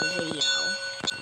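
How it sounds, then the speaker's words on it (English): A ringing bell of unknown origin sounds in the background, a bright sustained metallic tone with short repeated strikes lasting about a second, fairly loud against a tonal backdrop. "don't mind the bell. I don't know where it's coming from."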